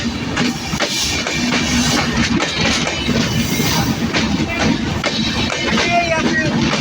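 The Madhumati Express and Benapole Express crossing at Pachuria Junction station, a train rumbling past at close range with rhythmic clatter of wheels over rail joints, continuous and loud throughout.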